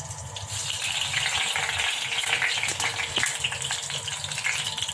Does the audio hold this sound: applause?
no